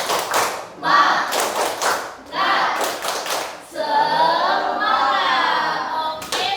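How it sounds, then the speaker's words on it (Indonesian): A group claps in a rhythmic tepuk semangat cheer, bursts of clapping alternating with chanting voices in Indonesian, loud and close, ending in a sustained shout. "Yuk semuanya tepuk semangat."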